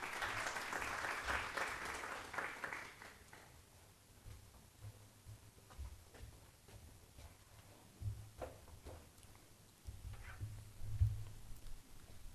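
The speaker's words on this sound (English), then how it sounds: "Round of applause, please." An audience at an Islamic psychology education conference applauds briefly, clapping strongest at the start then thinning into scattered claps and room rustle, fairly faint and distant.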